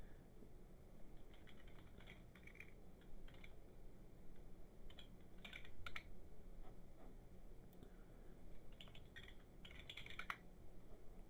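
Typing on a computer keyboard in short bursts of clicky keystrokes, quiet and close, separated by pauses over a low steady background hum.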